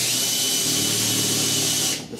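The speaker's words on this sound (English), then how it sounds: "So all I need to do is just put a little pilot hole there." A power drill bores a 1/8-inch pilot hole for drilling out a spot weld on the inner roof of a 1969 C10, a loud steady whine lasting about two seconds before stopping abruptly.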